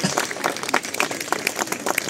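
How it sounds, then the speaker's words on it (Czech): A small group claps steadily and unevenly for a group photo at a groundbreaking ceremony, a brief patter of hand claps close by with no talk. "Máte-li volné ruce, zatleskejte."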